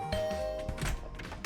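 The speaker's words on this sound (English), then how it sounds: "I rang the bell by the side of the door." A doorbell beside a room door in a video game sounds a single soft chime with a sustained ringing tone, heard over faint ambient background.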